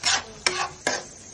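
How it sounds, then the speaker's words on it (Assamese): Chinese-style chicken pieces frying and being stirred in a pan, three quick scraping strokes, each with a sizzling hiss, close and fairly loud, without talk. "চাইনিজ চিকেনৰ মাংসখিনি ভাজি আছোঁ"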